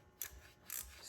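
A ratchet tightens the intake bolts on an EFI intake manifold install: two short, close, rasping bursts of clicks in quick succession, with no talking.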